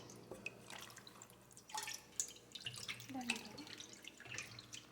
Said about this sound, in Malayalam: അത് പല പ്രാവശ്യം വെള്ളത്തിൽ ഇത് ചെയ്ത് കഴുകണം.